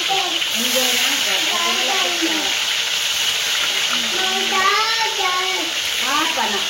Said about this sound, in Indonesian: Sekarang kita goreng ikannya.